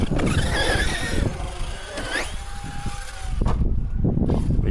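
Hobao MTX 8S RC car engine revving hard under heavy throttle, a continuous buzzing whine rising and falling in pitch through the whole stretch, fairly loud and close with no talk over it.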